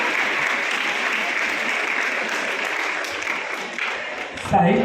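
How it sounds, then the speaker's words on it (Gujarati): An audience applauds after a song performance, dense steady clapping from many hands filling the room, sustained throughout and fading slightly at the end. "એટલે આપણે ખાસ તાળીઓથી એમનો આભાર વ્યક્ત કરીએ."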